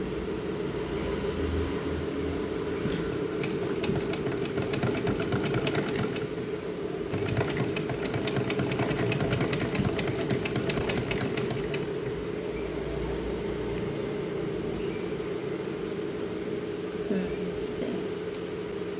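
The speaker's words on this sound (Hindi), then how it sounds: "इसके किनारे किनारे पे सिलाई लगा देनी है। लेस और पलटे को हमने एक ही सिलाई के साथ दोनों को अटैच करना है।" A sewing machine stitches lace and a folded trim strip together along a dress edge, a continuous close buzzing hum with rapid ticking bursts from the needle, while a person talks quietly in the background.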